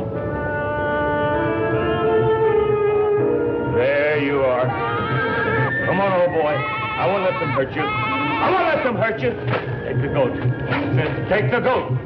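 Goat bleating in an animated adventure scene, repeated wavering bleats close up over a constant droning background, with several long drawn-out calls in a row.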